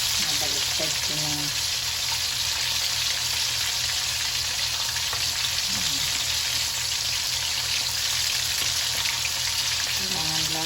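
Tuna sticks fry in a pan over low heat with a steady, dense sizzle and crackle, close and continuous, with faint, occasional voice sounds underneath.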